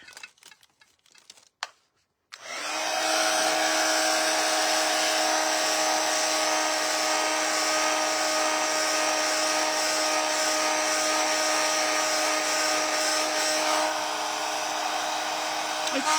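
A hair dryer blows steadily on wet paint on a glass candle holder, starting abruptly after a couple of seconds of faint handling noises and then running loud and continuous with a constant whine and broadband airflow roar.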